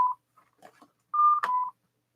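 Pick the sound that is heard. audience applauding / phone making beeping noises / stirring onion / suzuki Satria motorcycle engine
phone making beeping noises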